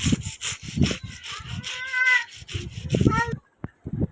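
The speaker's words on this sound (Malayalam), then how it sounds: "ഈ രണ്ട് പൂച്ചക്കുട്ടന്മാർ വന്നിട്ടുണ്ട് കേട്ടോ" Two kittens meow repeatedly near a spot where fish are being cleaned after an early-morning fishing trip, the cries loud and overlapping with low voices, ending in a short pause and a sharp knock.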